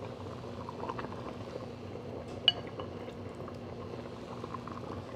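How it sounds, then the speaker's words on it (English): Chicken and nettle pozole at a boil in a pot, a low steady bubbling simmer throughout with one bright clink of metal or glass midway, fairly quiet and without talking. "Now that our pozole is boiling, it is ready for the chicken and the nettles to be added in."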